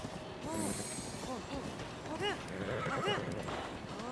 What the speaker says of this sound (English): That horse still not tame